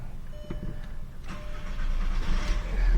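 A VW TDI diesel engine in a 1J/9M model cranks briefly, then catches and settles into a rising, rough idle, close and clear with no talking.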